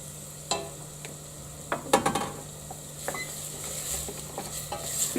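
A spoon stirs passata into seasoned rice in a pan, with scraping clinks against the metal and a faint sizzle underneath, several quick strokes close up with no talking.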